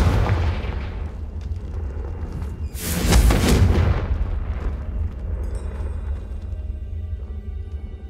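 A Confringo fire spell bursts in Hogwarts Legacy as a loud, booming explosion that swells around the middle and then rumbles away slowly.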